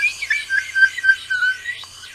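A toy or novelty whistle is blown over and over in a wavering, warbling series of shrill tones, fairly loud and close, with no talking.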